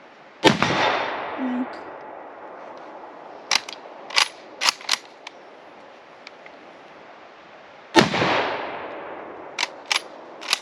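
A Remington-built M1891 Mosin rifle fires at an outdoor range: two loud, sharp shots several seconds apart, each with a long fading echo, separated by clicks and clacks of bolt handling.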